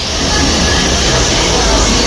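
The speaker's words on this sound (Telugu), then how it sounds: "కరెక్ట్ 15 minutes ముందు ట్రైన్ అయితే వస్తుంది చూడండి." A Vande Bharat train rolls into a station platform, a loud, continuous, close rumble and rush of wheels and air, filling the whole short stretch without a break.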